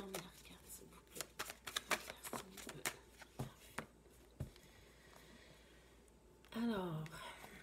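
Tarot cards being shuffled and drawn at a reading table, a run of soft, quick card flicks and slaps in uneven bursts, close and quiet, with someone speaking French briefly near the end.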